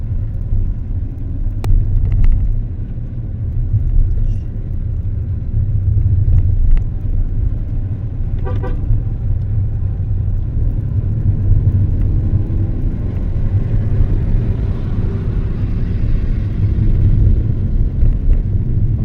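A car engine drones steadily as the vehicle climbs the winding hill road to Kodaikanal, a low continuous rumble with faint clicks and road noise over it.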